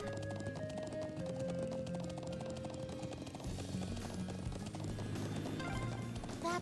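Horse hooves galloping in the video game Trails of Cold Steel: a steady, rapid clip-clop rhythm beats under loud background music throughout.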